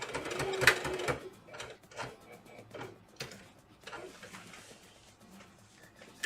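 A sewing machine back stitches a dress seam through the seam allowance, a close, rapid mechanical whirr in short bursts that ends with a brief run and then quieter light ticking, with no talk.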